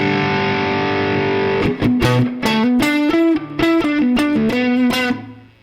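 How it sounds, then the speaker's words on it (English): Electric guitar run through a software overdrive distortion pedal on a computer, playing a sustained chord that rings out, then a series of loud, gritty picked notes and chords in an uneven rhythm, fading at the end. "Maybe I want to add a distortion. Let's see, like an overdrive pedal."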